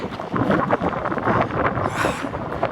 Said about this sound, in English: The wind feels good. Nice cool breeze.